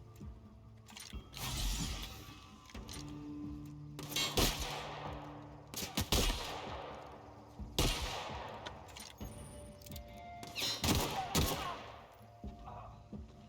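Repeated bursts of gunfire from a pistol in the video game The Outer Worlds, loud clustered shots with sharp transients spread across the clip, mixed with game effects and some voice.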